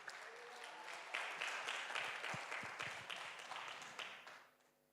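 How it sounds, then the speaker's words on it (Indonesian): A church congregation breaks into applause during a service, a dense burst of many hands clapping close and loud for several seconds before fading out at the end. "Oke, kita berikan tepuk tangan bagi Tuhan"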